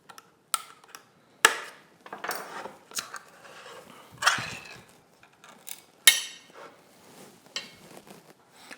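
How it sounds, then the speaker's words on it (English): Opening a can of finely chopped Italian tomatoes in a kitchen: scattered metallic clicks, taps and clatter of tin and utensils, with several sharper snaps and a tearing scrape of the lid, fairly close and intermittent, no voices. "We're just going to open our tomatoes,"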